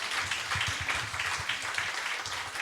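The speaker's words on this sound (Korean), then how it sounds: "다시 한번 두 분에게 감사의 박수" Brief burst of audience clapping at a church new-year gathering, a room of people applauding two guest speakers, fairly close and even in rhythm.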